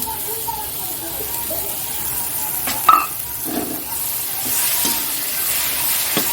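Onion fries in a pan with ginger-garlic paste, garam masala, cumin powder, tomato and chilli, sizzling steadily while being stirred, with a sharp clunk of the spoon partway through.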